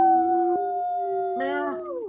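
A person's voice imitates a wolf or dog howl during a live online horror panel, holding one long steady note before a second, rising howl joins in and then fades out.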